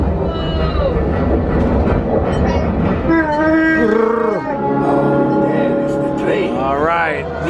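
A rumbling, clattering train effect inside the Star Wars Smugglers Run ride at Disney World, loud and continuous, mixed with riders' excited voices and tonal ride sound effects.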